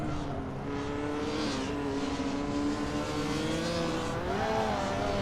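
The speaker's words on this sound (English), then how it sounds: "I'm just suddenly being deafened by a whatever kind of engine it is." Loud car engine, guessed to be a V6, droning steadily and close with shifting revs throughout, a continuous rasping hum that rises slightly near the end.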